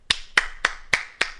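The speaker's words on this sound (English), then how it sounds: "Station master applauds." A single person claps five evenly spaced, crisp handclaps, close and clear against a quiet background in an audiobook of Chekhov's The Cherry Orchard.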